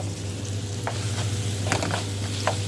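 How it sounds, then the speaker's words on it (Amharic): Chicken for shawarma fries in a pan with a steady, close sizzle over a low constant hum, broken by a few brief stirring scrapes, with no voices. "በዚህ መልኩ ጠብሰዋለሁኝ በደንብ ቅልት እስከሚል ድረስ ማለት ነው።"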